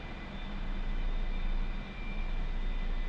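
Jet engine of an A-4E aircraft in the DCS VR flight game, a steady broadband roar with a low rumble and a faint high whine, continuous and moderately loud, with no talking.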